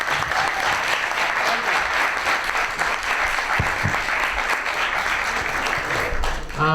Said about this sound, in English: So please, let's first applaud Stuart Hameroff.